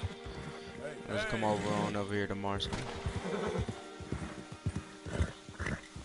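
Horses in the Red Dead Redemption 2 video game snort and whinny at a stable amid hoof and animal noises, while someone talks over them throughout.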